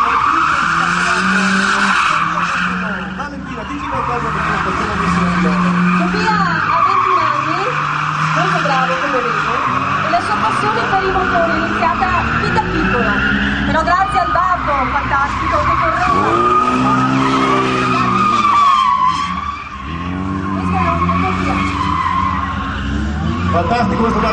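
Car tyres screech continuously through long drifting slides at a motor festival, a BMW among the cars, engines revving and wailing nearby, with a commentator talking over the noise.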